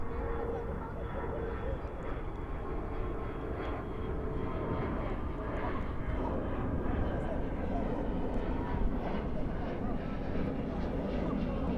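Airplane arriving at DFW airport at night, a continuous, fairly distant engine roar that swells slightly toward the end.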